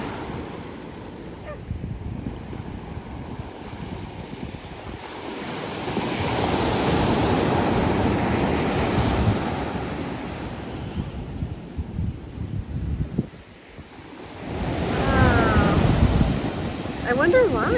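Large high-tide ocean waves break and surge continuously on a windy Pine Point beach, with loud swells building and crashing, wind buffeting the microphone, a dog barking briefly, and people talking over the surf.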